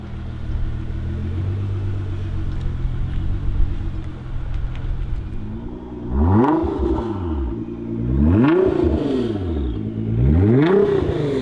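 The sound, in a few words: sports car exhaust revving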